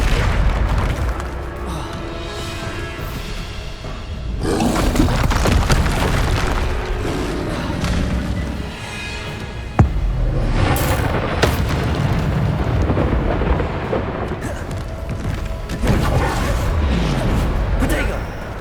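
Bombarda spell explosions in the Hogwarts Legacy video game: loud, booming blasts and crashing impacts churning across a sustained battle din, with a sharp hit near the middle and voices calling out over the chaos.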